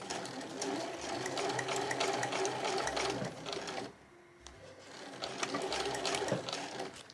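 A home sewing machine stitches size 8 canvas for a tote bag, a steady fast whirring run near the mic, briefly slowing to a pause midway before resuming.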